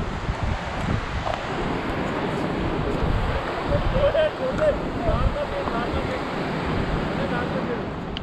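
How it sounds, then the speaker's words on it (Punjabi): A river rushes through the valley at Sonamarg, its water producing a steady, dense roar that holds at an even level throughout, with gusts of wind mixed into the wash. "ਜਿਹੜੀ ਪਾਣੀ ਦੀ ਆਵਾਜ਼ ਆ, ਉਹ ਦਿਲ ਨੂੰ ਸਕੂਨ ਦਿੰਦੀ।"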